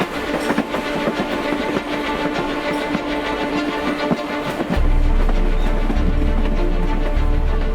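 A Mumbai local commuter train runs from Mira Road toward Virar, giving a loud, close, continuous rumble and clatter of wheels on track that grows heavier partway through.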